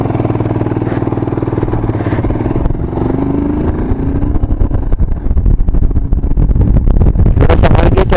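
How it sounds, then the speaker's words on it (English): A motorcycle engine revs hard as the throttle opens on a rough off-road track at high altitude. The roar is loud and close, its pitch climbing and falling amid rattling clatter. "A little bit open up my throttle now."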